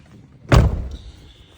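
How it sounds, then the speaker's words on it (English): A single solid thud as the passenger side door of a 2014 Dethleffs Advantage motorhome shuts, a short close impact that quickly dies away. "open up the passenger side door"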